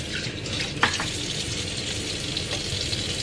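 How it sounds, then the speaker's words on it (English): A spoon stirs thick lentil soup in a crockpot, a steady close-up wet swishing with a low bubbling hiss, one sharper clink or scrape early on, then continuous sloshing with no voices. "Let me just stir it because it's kind of embarrassing like this. So let me just do like a quick stir it up."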